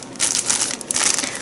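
A plastic bag being torn open, a dense crinkling, crackling rip of plastic sustained across the clip and heard up close with no talking.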